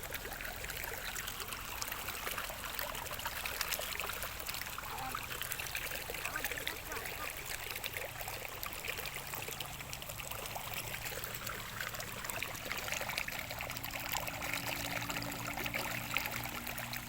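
Water flows and trickles steadily in a soft, continuous babble with no voices over it, heard from close by and fairly quiet.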